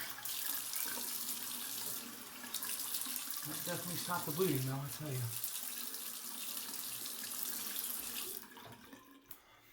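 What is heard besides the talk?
cold water running from a tap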